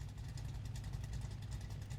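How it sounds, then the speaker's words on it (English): A junk pickup truck idles outside a home garage, giving a steady, low, throbbing engine rumble that continues evenly throughout, with no talking. "I love how I still got that truck out there idling"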